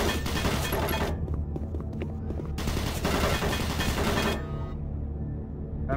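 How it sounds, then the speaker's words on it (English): Automated turret guns in Doom 3 fire in loud, dense bursts of rapid shots, broken by short pauses, with the final stretch dropping to a quieter rumble. "Warning, automated turret guns online."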